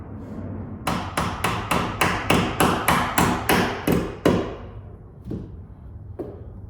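About a dozen sharp hammer blows in quick, even succession, loud and close, followed by two more spaced-out strikes.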